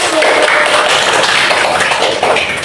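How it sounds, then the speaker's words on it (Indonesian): A classroom of students applauds a group after a microteaching presentation on electrolyte and non-electrolyte solutions. The clapping is dense, steady and fairly loud for nearly three seconds, then fades slightly at the end. "Tepuk tangan untuk kelompok 1."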